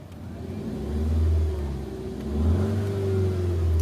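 A car's engine revs up twice in quick succession, a loud mid-range roar swelling and easing with a steady idle hum beneath, close by and with no talk.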